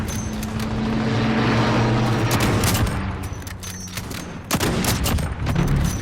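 Gunfire and explosions fill a busy Call of Duty Modern Warfare battle, with layered shots, a sharp burst near the four-second mark and a steady rumble of vehicle engines underneath.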